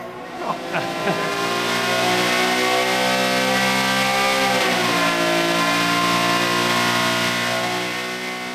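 A race car on its last lap of a 24-hour race at Blanchimont corner howls past, its engine rising in a loud sustained revving pitch sweep that holds, then fades slightly.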